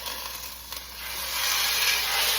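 Steady, broad frying sizzle of pork chops searing in hot butter, a soft crackling hiss that swells slightly louder partway through, with no talking.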